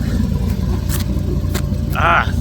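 A twin-turbo 1100 hp Corvette C6 Z06 accelerates hard in first gear, its close, loud engine roar rumbling steadily throughout, with a rising whine toward the end.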